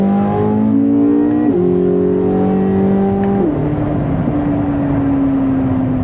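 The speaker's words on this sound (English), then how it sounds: "I'm gonna do a quick little pull though while we have the chance" A C8 Corvette Z06's LT6 V8 revs hard through the gears, rising in pitch, dropping at each shift, and climbing again, loud and close with no talking.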